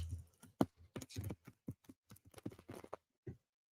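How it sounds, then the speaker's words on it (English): Tarot cards being shuffled in quick, uneven bursts of papery slaps and riffles, fairly close and moderately loud, with short gaps between clusters and no talking. "That was a sucky shuffle."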